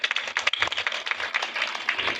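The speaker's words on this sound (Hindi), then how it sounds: "एक बार इस गांव की साहित्यिक चेतना के लिए पूरा मंच तालियां बजाए।" Clapping breaks out from an audience at a village kavi sammelan poetry gathering in a temple setting, a dense run of quick hand claps spreading steadily and fairly close.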